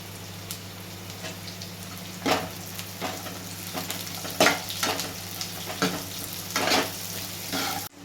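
Cashews and roasted gram frying with onions for dahi tadka. A steady sizzle is broken by irregular spoon scrapes and stirring knocks, close by and moderately loud.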